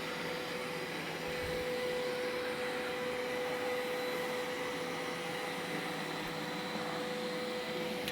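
A Roborock S5 robot vacuum hums steadily while cleaning and mapping a floor, with a constant whir and a fine high tone, close by and continuous.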